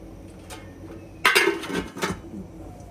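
A lid is set on a pot of mutton biryani, making two sharp metallic clanks close by against quiet kitchen background.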